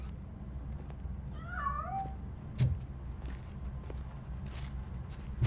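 A cat meows in a short rising-falling cry midway in the game RoboCop: Rogue City, fairly faint over a steady low hum, with a thump shortly after.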